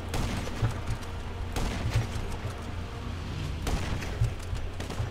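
Sniper rifle shots in GTA V Online: three or four spaced booming shots with long rolling tails over a steady background rumble, moderately loud and with no speech.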